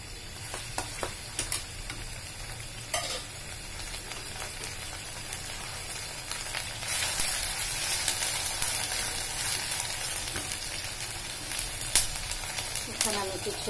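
Onion frying in hot oil in a pan, giving a steady broadband sizzle that runs the whole time with a few brief clatters from stirring.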